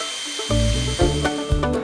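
A drill fitted with a small polishing pad buffs old, crusty truck hubcaps, whirring loudly in short revving bursts close by.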